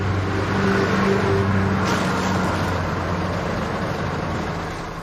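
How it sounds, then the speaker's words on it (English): A car engine idles and hums close by, then eases off and fades slightly as the vehicle settles to a stop, steady low rumble throughout with no voices. "a car's just pulled up"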